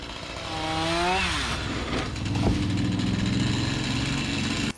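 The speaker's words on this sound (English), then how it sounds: "We used the pole saw to whittle the branches down to a manageable size before felling the whole tree" A pole saw motor whines and revs as it cuts through tree branches, its pitch rising and bending, then it settles into a steady buzzing drone close by before cutting off abruptly.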